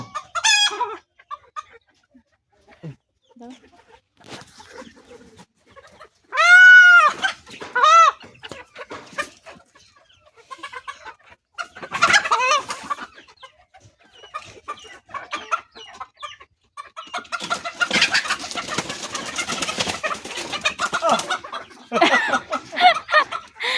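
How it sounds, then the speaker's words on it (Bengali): Roosters and hens at a poultry farm give repeated close clucks and a clear crow. Scattered flapping and scuffling noises follow, with occasional voices in the background. "মোরগ সব এদিকে, মোরগ সব এদিকে"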